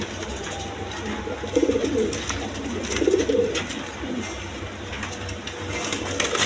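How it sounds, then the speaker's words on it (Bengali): Rajgolla pigeons cooing at a pigeon sale, soft low rolling coos repeating in short bursts close by over a steady background hum. "এখানে একটা রাজগোল্লা কবুতর আছে"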